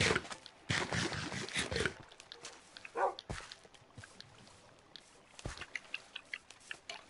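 Short bark-like yelps and a few sharp clicks from Minecraft dogs in a survival game, scattered and fairly faint over quiet game noise, with no talk.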